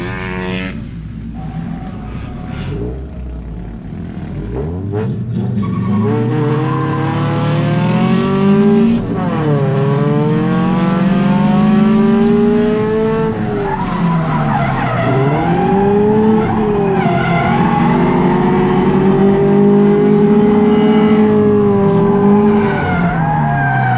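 Cars drifting in tandem on a track squeal their tires in a long, loud, wavering screech over engine roar, rising and bending in pitch as they slide and spin out.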